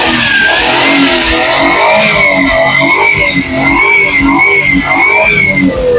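A Suzuki Scrum 4x2 with a Japan-surplus F6A 660cc engine, a complete recon unit, revs through its exhaust close by, the engine note rising and falling steadily for several seconds with no talking.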